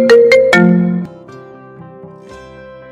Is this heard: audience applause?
no